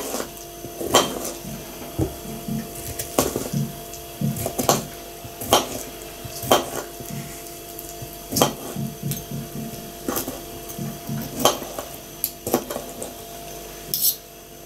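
A knife cutting food on a wooden board at a meal of rassolnik and buckwheat, giving repeated sharp woody knocks and chops at a steady, uneven rhythm, close and fairly loud.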